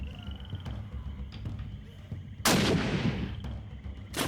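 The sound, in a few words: gunshot in the video game Sherlock Holmes: The Awakened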